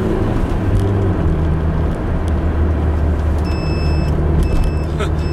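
Worn, whiny gearbox of a Nissan Sunny car on a test drive, a steady loud drone of engine and road noise with faint tonal whine running throughout.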